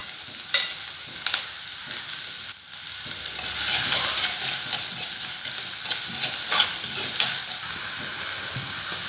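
Sliced onion fries with mustard seeds and curry leaves in a pan for Kerala-style anchovy thoran, making a steady, close hiss of sizzling oil broken by occasional scraping stirs.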